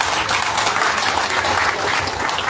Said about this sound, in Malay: Sila berikan tepukan